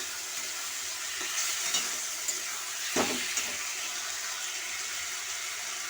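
Fish gills frying in a pan with potatoes and pointed gourd, under a constant sizzling hiss, with a few soft scrapes and knocks as the mixture is stirred.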